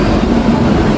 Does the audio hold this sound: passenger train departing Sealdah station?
yes